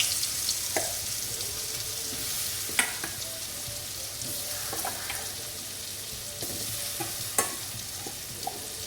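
Raw plantain pieces fry in hot oil while being stirred, giving a steady broadband sizzle broken by occasional sharp clinks of a utensil against the pan, with no voices.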